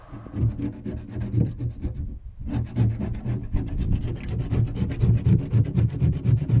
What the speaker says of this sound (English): do a scrape with the scraper